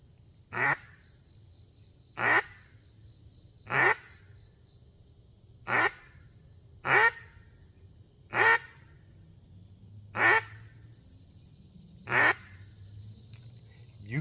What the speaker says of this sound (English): ducks are landing right here, probably about 70, 80 yards out